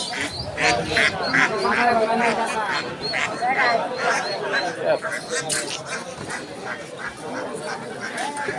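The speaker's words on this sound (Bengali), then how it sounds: "এখানে দেখা যাচ্ছে কিছু রাজা হাঁস" Ducks quacking in a busy, noisy crowd at a large market in Mymensingh, their calls overlapping with chatter from people nearby.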